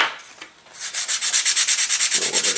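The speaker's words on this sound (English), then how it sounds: "Do a little bit of sanding on it." Quick back-and-forth strokes of sandpaper rubbing a small model aircraft fuselage part, a rhythmic scratchy rasp repeating steadily up close after a brief start.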